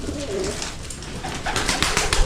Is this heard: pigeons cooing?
yes